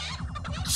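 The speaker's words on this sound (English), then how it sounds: "Chickens!" Cartoon chickens in the Chicken Invaders 3 Christmas Edition video game give a short burst of squawking and clucking, loud and busy over game music, with a hiss rising at the end.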